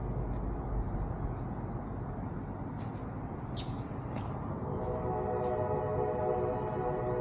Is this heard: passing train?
yes